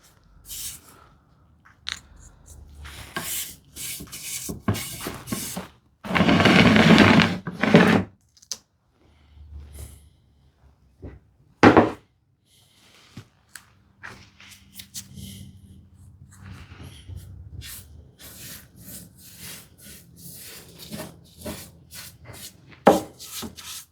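A final coat of finish is spread by hand onto a wooden shoe tidy in a hand-tool woodshop, with soft intermittent rubbing and wiping strokes, one longer burst of scraping, and occasional sharp knocks, all fairly quiet.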